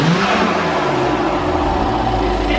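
BMW 435i with an added blow-off valve, its engine revving in a short, loud, close burst with a rising and falling whir.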